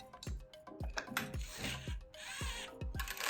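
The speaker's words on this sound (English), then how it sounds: "I am briefly tightening these 3 hidden bolts." Hidden bolts on an aluminum extrusion bed frame are tightened with a ratcheting tool, giving a steady run of close metallic clicks and scraping turns, roughly two or three per second.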